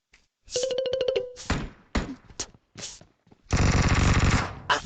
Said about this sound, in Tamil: கன் ஷாட் மட்டும் தானே கேட்கு